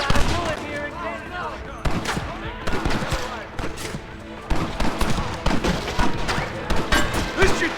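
Red Dead Redemption gunfire: a rapid fusillade of repeated shots in bursts, loud and close, with a voice talking in between.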